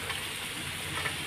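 Peas go into a pan of spiced fish curry, which fries with a steady, close hiss and sizzle and no break in the sound.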